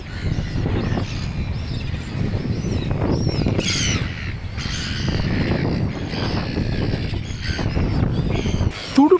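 Gulls call repeatedly around a New Zealand wildlife coast, harsh squawking cries over a steady rumble of wind and engine noise, with a faint voice underneath.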